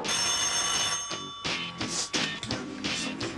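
A telephone rings in repeated electronic bursts with steady high tones, loud and close, followed by softer clattering handling noise.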